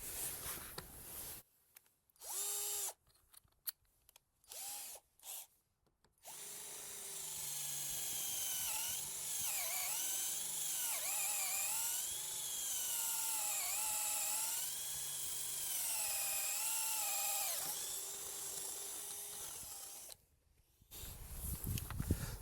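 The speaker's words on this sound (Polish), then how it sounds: "Jeszcze przewiercimy wiertłem Fi 12 mm, tą krokiew." A Drillpro 21V impact drill bores through a wooden rafter with a 12 mm bit, a sustained high whine that rises and falls in pitch with load for about fourteen seconds, preceded by several short bursts and stops.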